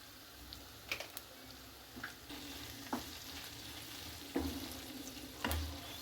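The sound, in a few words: stirring and frying brinjal curry in a pan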